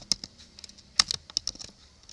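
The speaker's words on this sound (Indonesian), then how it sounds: "Kita ketikkan plot" Close, quick keystrokes on a computer keyboard while entering a plot command, with irregular taps and a few sharper key hits, no talking.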